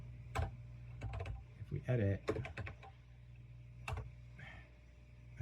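Keys clatter on a Commodore 64 computer keyboard in short irregular bursts, with someone talking briefly over the tapping.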